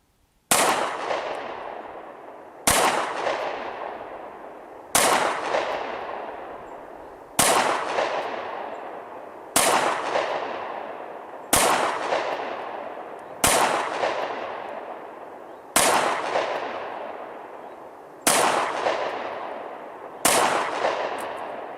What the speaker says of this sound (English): Not the best shooting you'll ever see, that's for certain. Pretty close range,